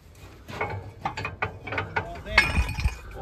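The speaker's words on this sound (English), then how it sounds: "Pulling out all the bolts." Ratchet wrench pulling bolts from the shanks of a Lemken potato planter, with rapid clicking pawl bursts and a few metallic clinks at close range.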